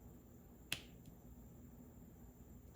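A single sharp pop rings out as a diamond painting drill is pressed into place, one crisp isolated click against a quiet room, followed by a fainter second tap.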